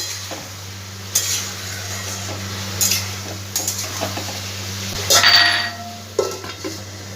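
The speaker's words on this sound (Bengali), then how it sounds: "ভালো করে একটু মশলার সঙ্গে নাড়াচাড়া করে আবার একটু ঢাকা দিয়ে দেবো।" A spatula works mashed potato paste and spices around a pan, with scraping strokes and a few sharp metallic clinks against the pan over a light sizzle and a low steady hum.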